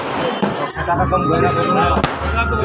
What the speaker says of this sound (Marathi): खतरनाक मध्ये फटाके फोडले आम्ही